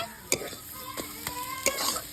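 Greens fry with a close, crackling sizzle as a utensil stirs the pan in a few sharp scraping strokes.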